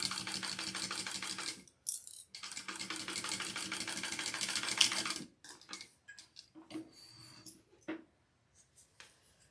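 Sewing machine stitching a seam on a fabric harlequin pouch, a steady dense whirr for about five seconds, then short stop-start bursts of stitching with pauses between.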